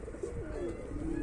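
Pigeons coo on a rooftop loft in a short, continuous murmuring burst of low cooing over steady background noise.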